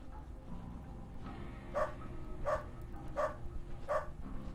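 Dogs in the video game Underrail bark four times at a steady, evenly spaced rhythm, moderately loud over low background game ambience.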